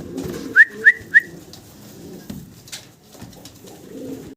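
Three quick rising whistle-like bird notes are followed by soft, low pigeon cooing murmurs nearby.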